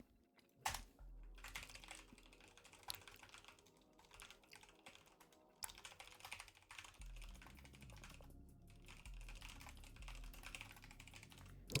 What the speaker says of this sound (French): J'ai laissé volontairement l'expandeur un peu faible pour qu'on entende le clavier